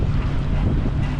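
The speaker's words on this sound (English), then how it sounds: "So the wind is coming from the starboard side." Wind buffets a microphone beside a boat at a river lock, a constant loud low rumble with no voices.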